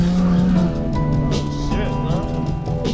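A Mazda Miata drifting on a mountain touge road, its engine whining steadily with tire squeal rising and falling across the stretch, loud and close from inside the car.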